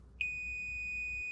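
Circuit tester beeping while probing a wire during an LED install on a Mazda Miata, a single clear high steady tone that starts abruptly and holds unbroken, close and alone.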